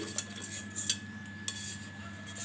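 A utensil scraping and tapping against a metal pan while freeing the sides of a freshly steamed dhokla, several quiet, sharp clinks and scrapes in irregular succession, close up and otherwise fairly still.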